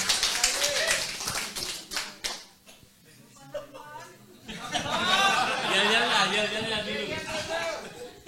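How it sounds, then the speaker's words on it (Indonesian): A group claps for the chairman at a farming practice session on fertilizer for vegetable crops, with a few scattered claps first, then a sustained round of applause mixed with chatter and voices. "Tepuk tangan dulu untuk Pak Ketua."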